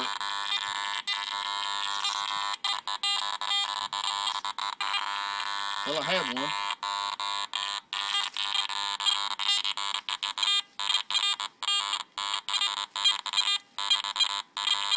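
Sustained electronic buzzing tones from a metal detector, choppy and broken up by brief dropouts, with someone speaking briefly over it.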